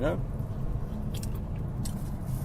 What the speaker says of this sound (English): Oh, I'm chewing loud now.